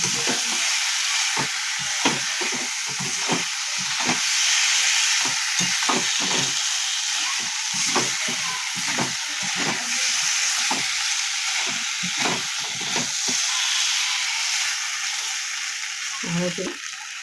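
Fried pointed gourd is stirred in an oily pan over strong, steady sizzling. A utensil scrapes and knocks the pan in a rough rhythm for a long stretch, close and loud, with no voices.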